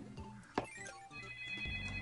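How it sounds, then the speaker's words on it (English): A phone ringtone chimes in steady repeating tones over video game music from Kirby's Dream Land 3, the ringing continuing without any talk. "Okay, my phone is ringing."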